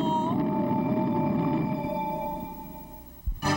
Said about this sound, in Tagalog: Napangiti ang lumba-lumba at umimpit ito na matinis na tunog.